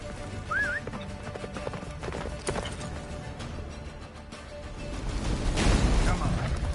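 Roach the horse galloping in The Witcher 3 video game, steady clip-clop hoofbeats under game music and effects, with shouted voices and a swelling rush of noise near the end.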